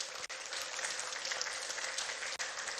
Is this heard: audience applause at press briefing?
yes